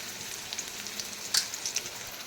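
Onion, curry leaves and two chillies frying in hot oil for a North Karnataka potato sambar, a soft, steady sizzle with a few sharper crackles popping through, no voices.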